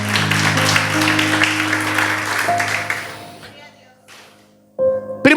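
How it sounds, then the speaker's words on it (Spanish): A church congregation claps loudly over sustained keyboard chords, the applause thinning and fading out after about three seconds, followed by a brief electronic tone near the end. "Sí, dale un aplauso a Dios."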